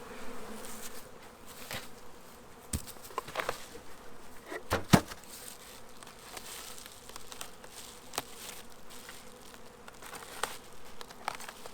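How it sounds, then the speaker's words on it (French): Honeybees fly around beehives, a soft continuous buzzing with individual bees passing close by now and then, outdoors with no talking. "Les abeilles devraient quand même être en vol."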